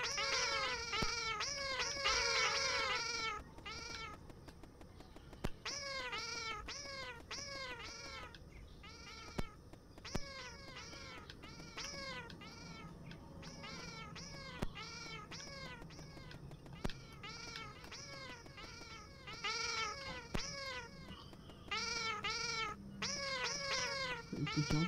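Several cats meow and yowl over and over in drawn-out, wavering cries, close and loud, with short pauses between bursts and no clear speech.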